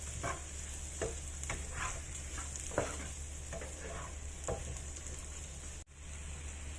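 Butter and three kinds of mushrooms fry in a pan, giving a steady close sizzle with scattered stirring scrapes and taps throughout, and one brief dropout near the end.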